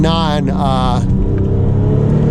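A Porsche 997 Turbo convertible, automatic rather than dual-clutch, accelerates hard on overboost, its engine rising in pitch through a strong revving surge, then settling into a loud, steady drone from inside the car.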